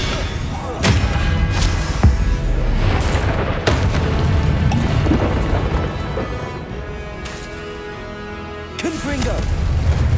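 The Confringo blast spell in Hogwarts Legacy fires off as repeated booming impacts over a dense layer of game music and effects, with a few sharp bursts standing out across the stretch.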